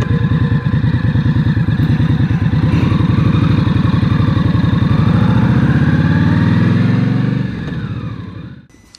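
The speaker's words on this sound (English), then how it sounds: "A lot of people have taken the stock pipes off, put aftermarket on to get a louder, beefier sound, but I like this." A 2023 Indian Scout ABS motorcycle engine idles through its stock exhaust pipes with a steady, close, fairly mellow rumble, then dies away as it shuts off near the end.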